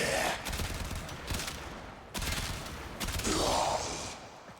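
An Argonak rifle fires on automatic in the Warframe video game, dense rapid bursts of gunfire in several long volleys separated by brief gaps, loud and close.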